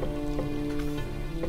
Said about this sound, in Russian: Это на заднем фоне дождь или что это?